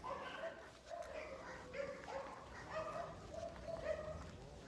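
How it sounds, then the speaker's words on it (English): Dogs barking repeatedly in the aftermath of Hurricane Beryl, a series of mid-distance barks and yips over steady outdoor background noise. "The dogs are barking."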